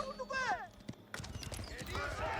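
Cavalry horses' hooves clip-clop in a fast, busy patter during a real-time strategy game battle, with whinnies and game effects mixed in under a commentator's voice.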